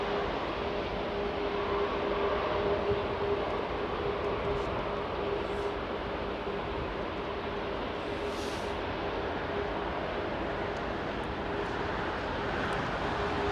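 British Airways Airbus A350 jet at Heathrow, a steady, sustained engine roar with a faint whine, holding constant at moderate loudness across the whole stretch with no voices.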